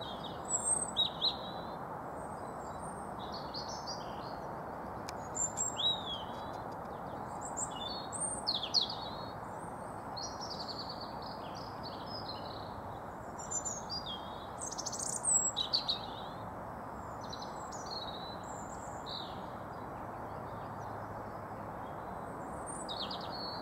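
Birds sing and chirp in scattered bursts over a steady hiss of outdoor noise, some calls close, others farther off.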